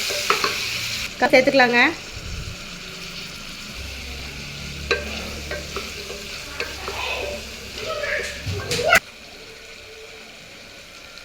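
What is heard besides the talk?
vegetables frying in pan with tomato and salt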